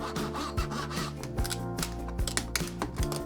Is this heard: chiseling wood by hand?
yes